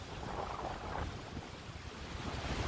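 Water rushes quickly over a dam at a fishing spot near Union and Chester, South Carolina, a faint, continuous roar mixed with wind buffeting the microphone.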